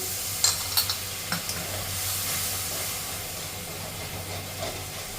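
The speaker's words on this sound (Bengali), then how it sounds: "দিয়ে দেবো সামান্য একটু জল" A little water hitting sizzling spice masala in a hot pan for a paneer curry: a few sharp spits and pops at first, then a steady hiss of steam that fades slowly beneath a low hum.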